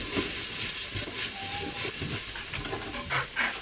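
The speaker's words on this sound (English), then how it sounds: "I'm going to add the rest of the onions and the garlic that was in this bowl. And just keep stirring that until they get nicely browned." Onions and garlic sizzling and hissing in a pan while being stirred, a dense steady crackle with scraping and clinks from the stirring, close and moderately loud, with no talking.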